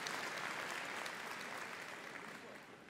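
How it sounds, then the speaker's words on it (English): Crowd applause at Crufts after a search and rescue dog demonstration, a dense, even burst of clapping for a few seconds, fading gently toward the end. "Round of applause is very much needed there."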